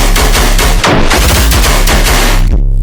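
Loud, heavy bass chopped by ShaperBox time automation into a fast pulsing rhythm with punchy hits and gated stutters, dense and continuous before cutting out near the end.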